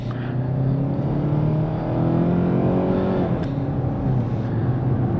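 A 2024 Hyundai Tucson SEL with the 2.5L engine and front-wheel drive pulling under full throttle, a steady droning engine note climbing in pitch over several seconds, loud and continuous from inside the cabin.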